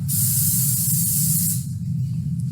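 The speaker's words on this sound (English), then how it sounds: "which I'm actually going to coat with some cooking spray" A steady cooking spray hisses continuously into a pan for about a second and a half, then cuts off, leaving a low background hum.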